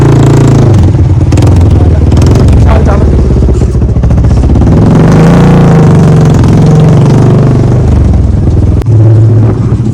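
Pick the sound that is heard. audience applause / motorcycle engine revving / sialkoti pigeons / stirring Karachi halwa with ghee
motorcycle engine revving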